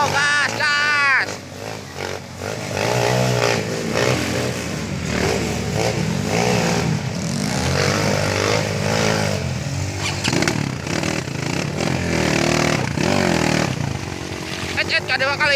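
Motorcycle engine gassing and revving on a ride toward the Curug Bentang waterfall in Subang, a loud, continuous rising-and-falling drone with clatter throughout, with voices talking and shouting over it.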